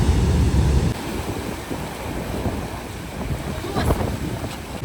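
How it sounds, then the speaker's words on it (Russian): Giant stormy ocean waves at the Agaete lava pools on Gran Canaria, a heavy roaring crash up front that settles into a broad rushing wash under strong wind buffeting the microphone. "Волны просто гигантские"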